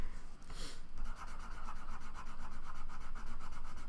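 Fine, steady scratching of a colored pencil rubbing across paper, close and soft, with a quick louder stroke near the start.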